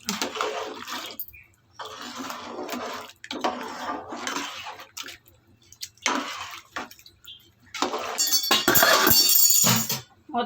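Vegetable biryani stirred in a large pot for a 1 kg batch, with bursts of scraping and clinking of a ladle against metal separated by short pauses, ending in a louder rattling clatter.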